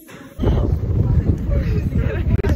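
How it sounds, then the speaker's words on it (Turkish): Strong gusting wind buffets the microphone in a steady low roar on a street in Bandırma, Turkey, with faint chatter of people in the background. "Rüzgar."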